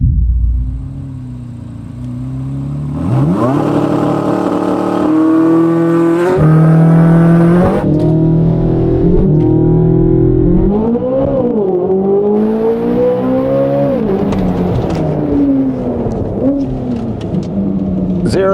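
A Chevrolet Corvette Z06, a high-revving car at altitude, launches 0 to 60 with wheel spin, its engine note climbing loudly through several gear changes, each shift dipping the pitch before it rises again, close and sustained.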